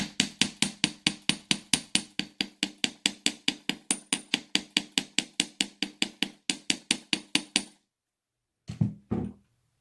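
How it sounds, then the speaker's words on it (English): Rapid, steady hammer blows on wire laid face down on a steel block while shaping the curves of a beaded ear cuff, a long run of sharp close metallic strikes that stops, followed by a couple of duller knocks. "we're going to get our steel block here and put this face down and hammer our curves"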